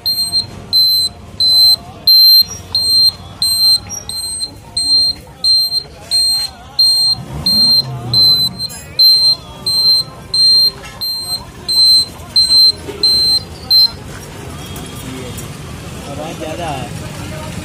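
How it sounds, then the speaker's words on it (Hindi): A motorbike indicator buzzer newly fitted under the seat beeps in a steady on-off pattern, a loud high-pitched tone repeating for about fourteen seconds over low engine and background noise before it stops. "इसके हॉर्न को हम बजा के दिखाते हैं आपको।"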